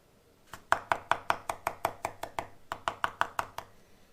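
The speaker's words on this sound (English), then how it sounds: "the first thing I want to do is chop up some fresh parsley" Fresh parsley chopped with a knife on a board: two quick bursts of crisp, evenly spaced chops, about seventeen in all, close and clear with no talk.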